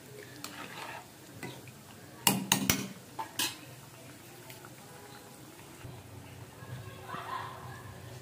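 A spoon clatters a few times against a pan while sweet tikki fry, a short burst of metallic clinks over a quiet sizzle, with soft kitchen noise around it.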